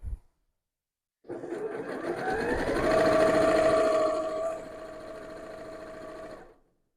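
A beginner sewing machine hums as it stitches fabric, starting up after a short pause, rising to a steady whirring run, then easing to a slightly softer pace before stopping; no voices.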